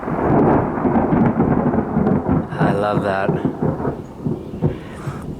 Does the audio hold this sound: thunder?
yes